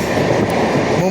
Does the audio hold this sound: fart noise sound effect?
no